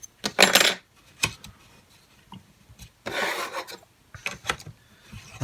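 Metal scraping and rasping while the bottom nut of a Dremel 220 Workstation is loosened with a spanner, two longer bursts with short clicks and taps between, close and fairly quiet.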